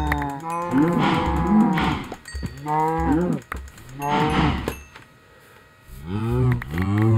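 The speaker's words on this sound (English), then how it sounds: "Hello, cows." Several Minecraft cows moo in repeated long, drawn-out calls, close and loud, with short gaps between them and no talking.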